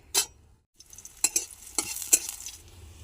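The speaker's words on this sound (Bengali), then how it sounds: "বড়িটাকে ভাজি করে নেব তেলে" Spiced lentil badi fry in oil with short sizzling bursts and a few scrapes of a spoon in the pan, close and fairly loud, separated by brief quiet gaps.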